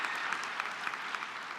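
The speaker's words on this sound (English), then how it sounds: "Go ahead, you can clap." Graduates at Purdue Global's February 2024 virtual commencement applaud in an even, steady patter of many hands, fairly soft and unbroken through the short stretch.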